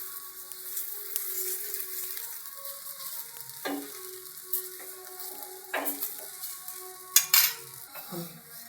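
Aloo paratha frying in oil on a pan, a steady soft sizzle with intermittent clinks and scrapes of a utensil against the pan, close and fairly quiet, no talking.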